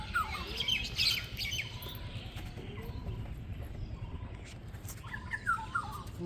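Pigeons call in brief chirps and soft calls at moderate distance over a steady low rumble, with a few clearer bursts at the start and end.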